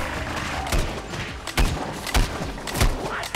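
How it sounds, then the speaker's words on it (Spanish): Pod shot explosions in Plants vs Zombies Garden Warfare 2, a series of punchy thuds and bursts arriving every half second or so amid dense game noise, close and loud. "me voló por los aires con el disparo de vaina"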